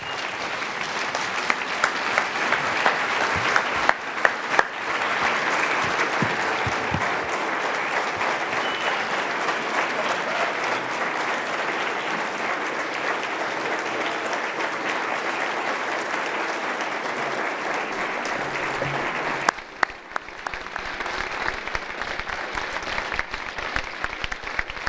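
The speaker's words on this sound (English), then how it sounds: "Well, thank you for that additional round of applause" Sustained audience applause at the unveiling of Utah Valley University's Roots of Knowledge, a broad, steady wash of many hands clapping for over twenty seconds, dipping briefly near the end before continuing.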